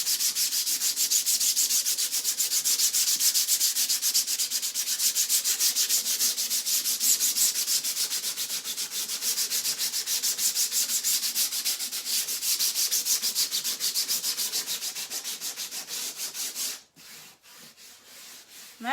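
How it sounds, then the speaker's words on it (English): Chalk paste being sanded by hand on a craft project, a close, fast and steady rasping rub that runs for a long stretch before stopping abruptly, leaving a few faint handling noises. "sand this a little bit."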